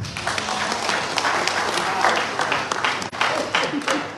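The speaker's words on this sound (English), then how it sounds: "A big round of applause" A crowd at a send-off comedy show at Lusaka Playhouse gives loud, sustained applause, a thick wash of clapping that carries steadily through the whole stretch with some cheering, fairly close.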